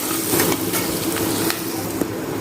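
Crushed garlic frying in hot oil for an egg curry, a dense close sizzle with faint crackles and light stirring taps throughout.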